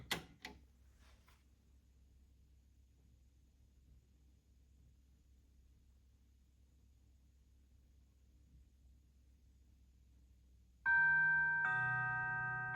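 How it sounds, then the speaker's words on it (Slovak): A Seak music box set to its mourning mode plays a single gong chime with no melody, a bright ringing strike near the end that sustains after a long near-silent stretch. "To znamená, že bez hudby len gong."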